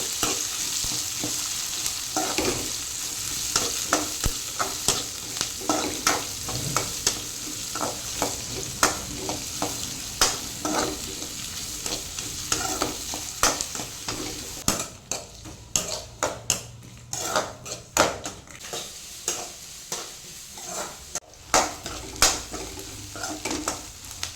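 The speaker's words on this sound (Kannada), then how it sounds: "ಒಂದು ದೊಡ್ಡ ನೀರುಳ್ಳಿಯನ್ನು ಕಟ್ ಮಾಡಿ ತೊಗೊಂಡಿದ್ದೇನೆ, ಅದನ್ನು ಹಾಕ್ತೇನೆ. ಇವಾಗ ಇದನ್ನು ಫ್ರೈ ಮಾಡ್ತೇನೆ." A large chopped onion frying in a pan for sambar, with a steady sizzle under frequent scraping and stirring of a spoon against the pan, close and continuous.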